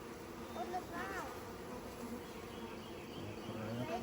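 Honey bees from a package install buzz close by in a steady, continuous drone with passing higher whines as individual bees fly near, while a person talks quietly in the background.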